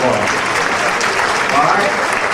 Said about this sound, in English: let's give the SCISA 1A and AA All-State teams a very well-deserved round of applause